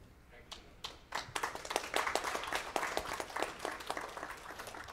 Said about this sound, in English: Give our son Dave another big round of applause.